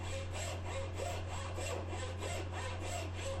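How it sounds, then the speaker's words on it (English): A bow saw rasps through wood, cutting curves in a tabletop, in steady, even back-and-forth strokes, close and fairly quiet, with no voices. "Then I saw the curves with the bow saw."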